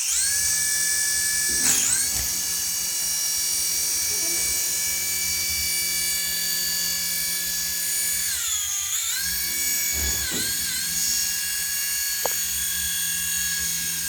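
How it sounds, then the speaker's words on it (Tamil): A small toy remote-control helicopter switched on with its rotors running, giving a high, steady whine with a buzzing motor hum that dips and rises briefly a few times. "இந்த ஹெலிகாப்டர் ஸ்மால் ஸ்விட்ச் கூட இப்போ ஆன் பண்ண போகிறேன்"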